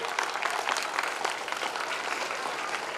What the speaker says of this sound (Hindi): जोरदार तालियों के साथ सभी अतिथियों का स्वागत करिए